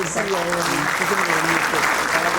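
Steady, dense clapping from an audience at a school mentorship event fills the short stretch, with a voice speaking over it.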